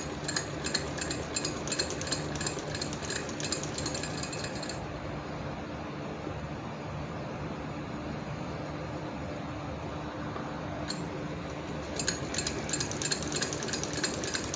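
A home sewing machine stitching a Patiala salwar with dori loops runs in fast, rhythmic bursts at the start and again near the end, with a quieter, softer whir between them.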